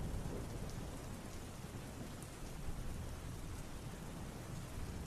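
Steady, heavy rain falls without a break, a broad hiss of drops hitting surfaces with faint rumbles of thunder underneath, fairly quiet and with no voices.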